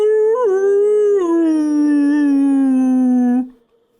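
A voice imitates a dog howling, one long wavering howl that slides downward in pitch before cutting off into silence.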